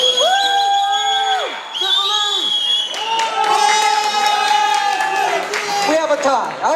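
A crowd at a startup pitch and demo event cheers, whoops and claps loudly and close by, with shouts rising and falling in bursts throughout.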